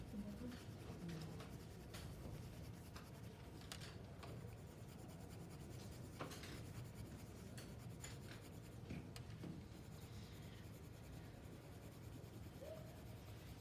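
Graphite pencil shading over paper in a second layer of tone, a soft continuous scratchy rub with steady back-and-forth strokes, close and quiet throughout.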